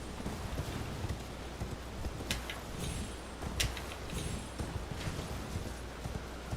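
Horse hooves clip-clop in a steady galloping rhythm while riding through Elden Ring, close and continuous under in-game ambience, with a couple of sharper thuds along the way.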